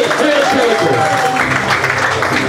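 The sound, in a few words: applause for an award winner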